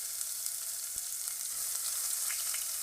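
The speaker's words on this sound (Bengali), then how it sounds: "একটু ধরে ভেজে নেওয়া হচ্ছে পেঁয়াজ" Onions fry in hot oil after cumin, giving a soft, even hiss that is fairly quiet and continuous, with an occasional faint tap of stirring.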